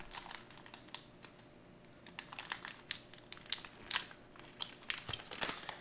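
A U.S. MRE ration pouch, a 2012 Wornick Co. Menu 14 Ratatouille, torn open at the top, giving a quiet run of crinkly plastic rips and crackles in short bursts.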